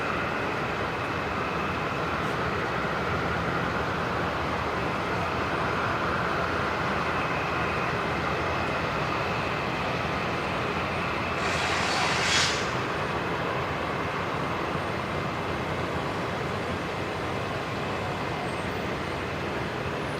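Airliner rolling down the runway for takeoff at Brisbane Airport at night, a steady broad roar of engine and air noise heard from a distance, holding evenly throughout with a brief brighter swell midway.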